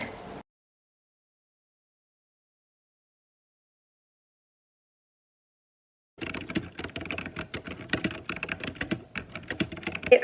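Typing on a computer keyboard raised on a foam wrist rest shaped like a strawberry: a brief burst of clicks, a long silence, then several seconds of steady, close, rapid key clatter with no voices.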